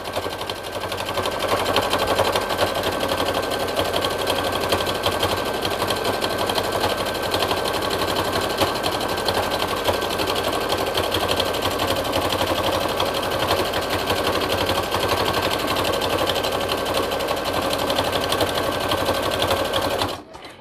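A sewing machine runs continuously at steady speed, stitching the enclosed hood of a machine-embroidered hooded towel with a dense, even mechanical whir close to the microphone, stopping right at the end.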